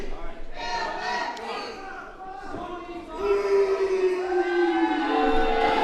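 A wrestling crowd in Paisley cheers and chants in rising, wavering unison tones that swell louder partway through, with a commentator's voice over the top.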